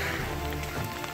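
Steady rain after a hailstorm on a mountain hike in Rocky Mountain National Park, a dense even hiss of drops hitting surfaces, loud and close with no pauses.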